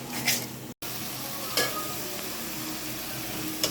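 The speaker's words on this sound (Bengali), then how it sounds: "এবার আমি মশলাটা ভালোভাবে কষিয়ে নেব।" Coriander, chili and turmeric spice mix is sautéed in a pan, giving a steady low sizzle broken by a few scraping strokes of stirring, close and moderately quiet, with a brief dropout near the start.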